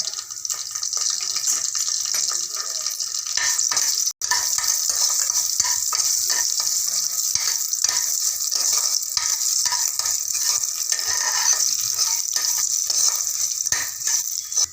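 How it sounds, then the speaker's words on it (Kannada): Dry red chillies and curry leaves sizzle in hot tempering oil for bisi bele bath, a steady, loud crackling hiss that carries on without a break, with faint stirring and no talk. "ಆಮೇಲೆ ಒಣಮೆಣಸಿನ್ಕಾಯಿ ಒಗ್ಗರಣೆಗೆ ಹಾಕ್ತಾಯಿದ್ದೀನಿ."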